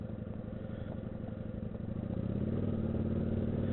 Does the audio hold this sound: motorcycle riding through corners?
yes